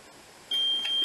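After a moment of quiet hum, a fire alarm panel's pre-alarm tone starts, steady and high-pitched, holding continuously, fairly loud and close.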